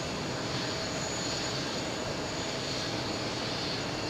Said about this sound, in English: we have so many more JetBlues to see take off